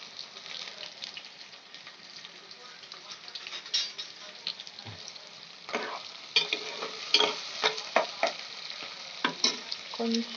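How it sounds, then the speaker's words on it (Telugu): Green chilies and onions frying in a pan, a continuous sizzle broken by frequent scraping stirs that grow busier and louder toward the end; close, with no talking. "పచ్చిమిర్చి, ఉల్లిపాయలు వేసుకోవాలి."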